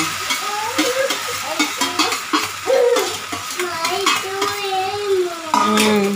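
Coriander rice being stirred in a metal pan, with a spoon scraping and clinking in steady repeated strokes over a soft frying sizzle, close and fairly loud, while voices, including a child's, talk in the background.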